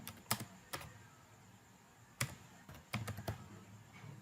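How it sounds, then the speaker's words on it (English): Computer keyboard typing, a few sparse, soft key clicks scattered over a quiet hum, close but faint, with no voice. "let me type here"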